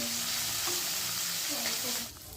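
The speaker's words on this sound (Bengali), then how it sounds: "মাছগুলোকে উল্টে পাল্টে সব দিকে ভালো করে ভেজে নিচ্ছি" Small chuno fish fry in hot oil in a wok while being turned, giving a soft, continuous sizzle with faint stirring scrapes that thins out just before the end.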